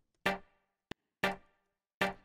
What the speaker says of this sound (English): So I'm using just a percussive synth hit.